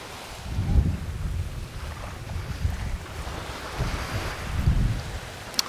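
Wind and surf on a sandy Caribbean beach at Akumal Sur, a steady windy rush with low wave swells building and breaking around two and five seconds, close and moderately loud, no talking.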